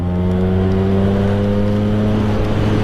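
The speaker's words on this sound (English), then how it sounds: "I'm in third gear right now, and she could rev right out if I wanted to" A Vespa PX scooter fitted with a 177cc kit holds a steady, loud, close two-stroke buzz in third gear, a constant droning rev with no pauses.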